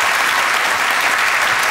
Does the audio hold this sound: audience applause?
yes